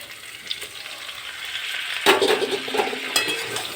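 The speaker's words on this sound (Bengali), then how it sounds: "আলুটা লাল লাল করে ভাজা হয়ে গেছে, এবার আমি কাঁচা লঙ্কা টমেটো দিয়ে দিচ্ছি।" Potatoes frying in a pan hiss steadily, then a louder sizzle bursts up as green chillies and tomatoes go into the hot oil, followed by stirring scrapes close by.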